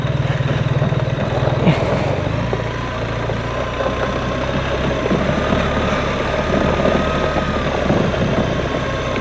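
A BMW R1300 GSA motorcycle rumbles along off-road as the rider shifts down into first gear; a steady, close engine drone holds under a faint wind rush, with no clear break for the shift.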